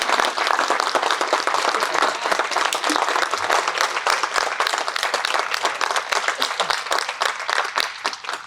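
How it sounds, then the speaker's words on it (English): Sustained audience applause at a college building launch reception, dense steady clapping from a crowd filling the room without pause. "You can clap."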